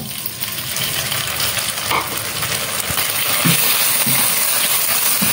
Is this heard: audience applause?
no